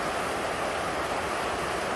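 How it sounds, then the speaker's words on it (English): Heavy rain pours down in a steady, dense hiss, a continuous broadband wash with no breaks and no voices, loud and close throughout. "it is absolutely downpouring here"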